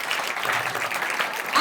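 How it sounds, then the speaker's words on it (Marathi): An audience claps at a school farewell ceremony for tenth-grade students. The applause is steady, dense and moderately distant, with voices mixed in throughout. "एकदा जोरदार टाळ्या"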